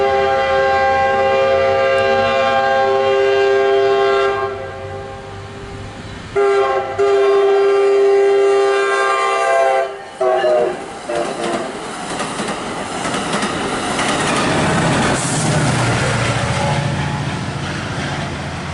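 MARC commuter train P884 passing close by, sounding a long, loud sustained horn for several seconds, breaking off briefly, then blaring again over the rumbling clatter of passing cars and wheels.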